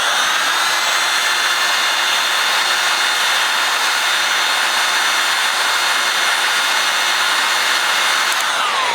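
A heat gun blows a steady, loud, broadband whoosh without pause while it heats stuck screws on a gun, with no talking.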